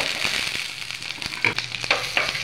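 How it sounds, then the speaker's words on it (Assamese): Nigella seeds, cumin, chilli, onion and garlic frying in a little oil on a pan over a gas stove, a close, steady sizzle with scattered sharp pops and crackles. "গেছত টাৱাখন পাতি অকণমান তেল দি দিছোঁ। কালজিৰা, গোটা জিৰা, জলকীয়া, পিঁয়াজ আৰু নহৰু।"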